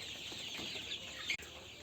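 Thirty-two-day-old Sonali chickens cluck in a farm setting, with a steady run of soft, close clucks and a brief sharper call near the end. No voices can be heard.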